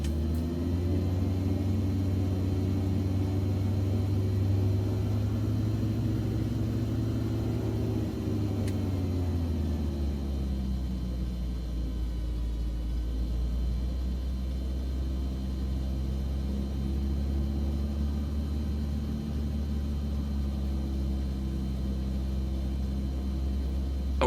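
A Skyward Simulations DA50RD aircraft's turbo diesel engine in a flight simulator runs at a steady low drone, with its pitch dipping and settling partway through and a constant rumbling hum underneath.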